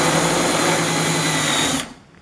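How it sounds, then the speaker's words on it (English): A power drill runs a countersink into a hole in a plastic compost tumbler, whining steadily and loud for under two seconds before cutting off abruptly. "I'm just going to put a little countersink on it."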